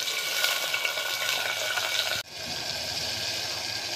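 Sliced onions fry and sizzle in hot oil in a pan for a moong dal recipe, giving a steady, close crackling hiss that drops off abruptly for a moment and then resumes.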